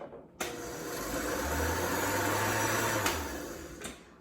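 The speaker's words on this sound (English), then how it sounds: "I'm going to give it just a quick little blend." Countertop blender whirring briefly through liquids and sugar, starting abruptly, holding a steady loud motor whine for about three seconds, then cutting off, close up with no talking.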